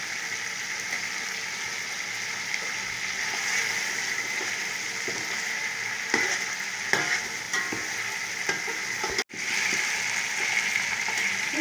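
Mutton frying with browned onions in a pot for white pulao, a steady close sizzle with scrapes and stirring knocks throughout and one brief dropout near the end.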